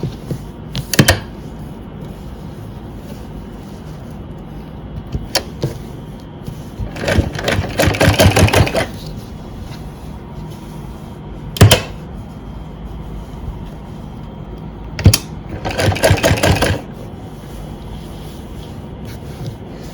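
A sewing machine stitches a salwar in short bursts, several quick rattling runs of needle clatter with quieter gaps and single thumps between, heard up close in a quiet room.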